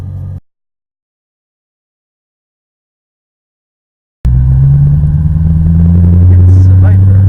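A red Dodge Viper drives past, its engine suddenly bursting in loud and close after a stretch of silence. The engine holds a strong, droning tone that rises slightly in pitch as the car goes by.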